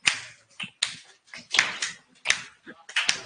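Sharp hand claps keep a folk dance beat from a Holi dance, about eight crisp claps spaced irregularly, close by, with a voice speaking between them.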